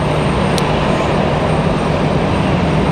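A Turkish Airlines Boeing 777-300 jet at Raleigh Durham International Airport gives a loud, steady broadband roar with no break, close and filling the whole stretch.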